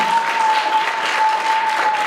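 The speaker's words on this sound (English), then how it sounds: "Let's give him a nice round of applause." An audience applauds briskly, a sustained wash of clapping with a faint steady tone humming underneath.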